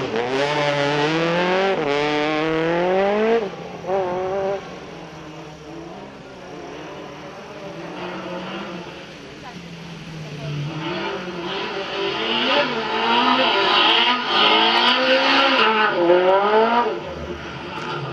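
Rally car on a dirt road stage in Guadeloupe, engine revving hard through rising gear changes, then backing off under braking and accelerating again, loud and fairly close with no speech.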